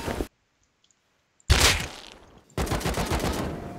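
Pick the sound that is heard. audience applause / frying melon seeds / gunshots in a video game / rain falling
gunshots in a video game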